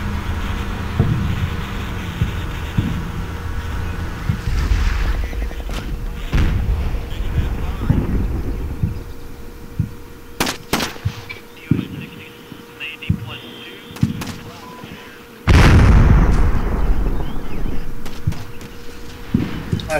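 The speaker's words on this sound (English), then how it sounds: "Absolutely love those strikers with the 105mm howitzers." Booming 105mm howitzer fire from Stryker vehicles in the Combat Mission: Shock Force war game, several sharp blasts rising over a steady battlefield rumble, with a heavy sustained roar near the end.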